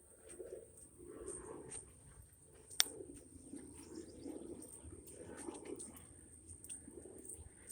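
Soft, repeated low cooing calls from a pigeon or dove in a derelict park, spaced steadily through the clip, with a faint high background hum and one sharp click.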